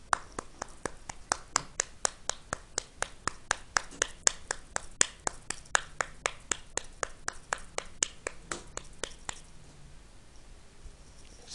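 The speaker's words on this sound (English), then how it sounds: "add the audio sample of clapping for the samples" Hand claps recorded as training samples, a long run of sharp single claps at a steady, fairly quick pace, close and alone, stopping a couple of seconds before the end.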